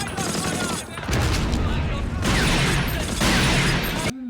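Dense battle gunfire and booming cannon or artillery fire from a war TV drama beach assault, continuous and loud for several seconds, with brief dips before cutting out at the end.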